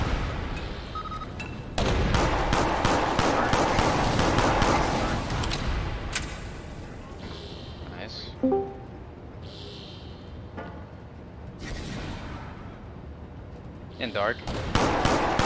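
Bursts of rapid gunfire in the video game Shadowrun, close and loud, continuing across the clip amid game effects, with a brief spoken remark.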